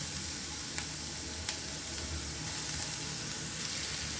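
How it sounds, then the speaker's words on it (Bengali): Onion and garlic sizzle in mustard oil in a pan as beetroot is added for frying, a steady close crackle with occasional sharper pops and stirring scrapes. "পেঁয়াজ আর রসুন হালকা ভাজা হয়ে গেছে, দিয়ে দিব বিট,"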